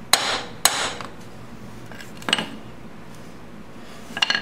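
Hammer blows seat a ball bearing in a 2002 BMW K1200RS motorcycle final drive in a workshop, with a few sharp, close metallic strikes separated by pauses and no talking.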